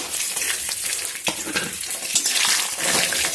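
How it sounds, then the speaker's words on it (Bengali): Cashews and raisins fry in white oil in a wok, a close, loud, continuous sizzle with bursts of stirring and scraping. "কড়াইয়ের মধ্যে সাদা তেল দিয়ে কাজু কিশমিশটা ভেজে নেব।"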